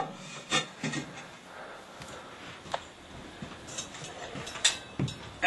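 A ceramic fire ring for a large Big Green Egg grill is lifted and set into place, giving scattered scraping and knocking contacts, several sharp clunks spread over a few seconds with quiet rubbing between.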